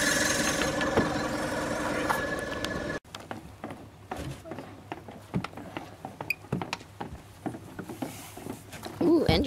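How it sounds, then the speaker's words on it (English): An aging boat outboard engine at a lake sputters to life and settles into a rough, uneven idle with knocking pulses, moderately close, following a loud stretch of louder noise at the start. "Ooh, engine."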